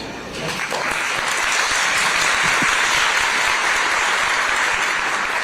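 Audience applause at a street event for the 77th Annual Tulip Festival in Albany, steady and dense for several seconds, loud and close, with a few voices mixed in.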